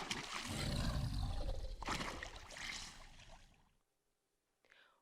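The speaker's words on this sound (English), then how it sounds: "Believe it or not, that's an alligator." An alligator lets out a deep, rumbling roar, loud and rough for several seconds, then tapers to silence before a brief faint noise.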